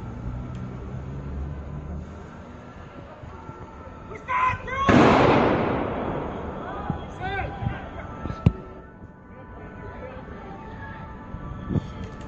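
Gunfire in a Paris street outside a concert hall during an attack: sharp sporadic bangs echo through the street, one louder burst followed by a rolling reverberant crack and scattered distant shots, under agitated voices.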